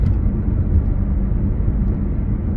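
A Nissan Juke 1.5 dCi 8v diesel SUV with a manual gearbox drones steadily from inside the cabin while driving, a constant low engine and road rumble with no talking.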